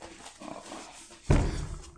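A dog gives one short, loud, rough vocal burst partway through, clearly louder than the quiet indoor background before it.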